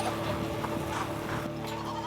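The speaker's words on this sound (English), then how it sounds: "We really like to do our goat mustering when the school holidays are on" Goats bleat repeatedly in quick overlapping calls during mustering on a goat and sheep farm in the Gascoyne, Western Australia, the cries close and fairly loud over a noisy outdoor background.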